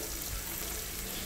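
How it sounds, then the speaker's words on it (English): A steady crackling sizzle of onions frying over low heat in a pan, continuous and close, with no talking. "right here I'm frying the onions till when it's a bit golden brown"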